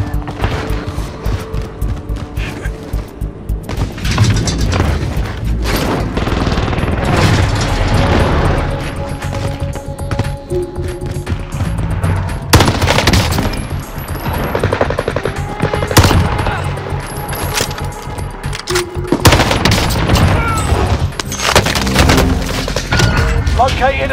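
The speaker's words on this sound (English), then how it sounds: "Enemy precision airstrike." Warzone battle on Rebirth Island with a precision airstrike: loud, sustained machine-gun bursts and gunfire mixed with heavy explosions, dense and close throughout, with in-game voice callouts.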